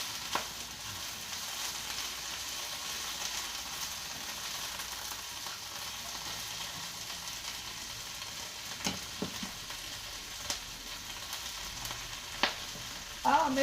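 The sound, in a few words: collard greens sauteing in a hot skillet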